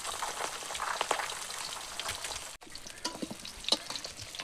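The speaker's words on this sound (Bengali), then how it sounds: "দেখুন আমার মাছগুলো ভাজা ভাজা হয়ে গেছে," Large pond-caught fish frying in oil in a pan, a continuous crackling sizzle with scattered pops and spatters, close up, broken by a brief cut midway.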